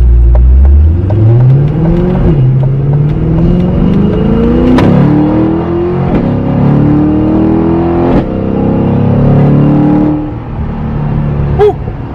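A Chevrolet C8 Corvette with bolt-on mods launches hard from a green light, its engine note rising loudly through the gears with sharp shift breaks, close and continuous for the whole run.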